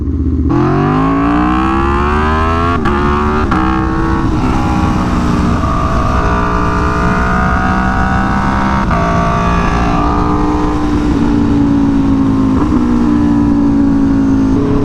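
Aprilia Tuono V4 motorcycle engine running steadily while riding, a loud continuous harmonic drone that rises and falls in pitch with a few quick shifts, close and without talk.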